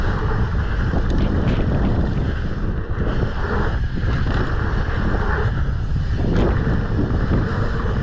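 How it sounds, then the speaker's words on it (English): Strong, steady wind roars across an open ski hill at a Park City freeride terrain park, a dense, continuous rush buffeting close by with no talk. "that wind coming from the southeast, you feel it right off that, especially here"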